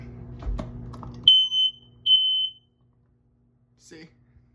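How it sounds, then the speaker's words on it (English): A replaced household smoke detector in an upstairs hallway, not interconnected, is tested and gives two loud, shrill beeps in quick succession, following some quiet handling noise and a voice, then silence. "so let me test this one out."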